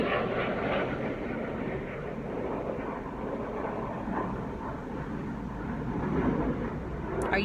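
A steady, broad engine rumble from an airplane passing overhead fills the whole stretch, distant and unbroken, with no voices heard.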